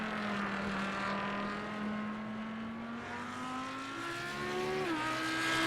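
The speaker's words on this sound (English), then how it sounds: "the only driver in the Audi out getting some extra time on track" An Audi GT3 race car drives a lap of the Daytona road course, its engine a steady, loud, droning tone that climbs gradually and then shifts down sharply near the end, with no talk over it.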